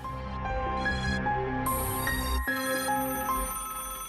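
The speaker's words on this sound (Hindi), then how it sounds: "कीर्तन, देखो किसका फोन है" A telephone rings with a repeating electronic melody, clear and close, playing continuously without any talking.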